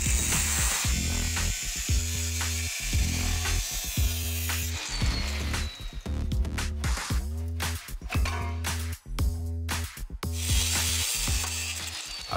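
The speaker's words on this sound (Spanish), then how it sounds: "Ahora resta volver, cortar la parte trasera y nos desharemos del silenciador." A power tool grinds and ratchets in repeated short bursts while cutting off the rear of a Panther race car's muffler, the close, mechanical chatter stopping and restarting in an uneven rhythm with no talk.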